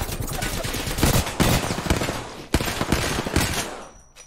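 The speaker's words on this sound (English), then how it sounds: "Enemies are shooting at you." Enemies fire on the player in Apex Legends, with rapid bursts of automatic gunfire cracking in close succession, loud and near, before the shooting fades out at the end.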